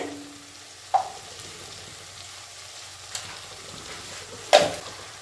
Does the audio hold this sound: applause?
no